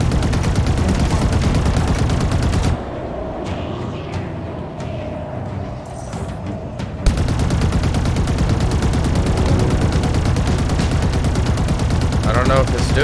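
Gunfire in the sci-fi shooter Halo Infinite, with dense rapid shots and game audio running loud and steady, a brief quieter lull midway before the firing resumes.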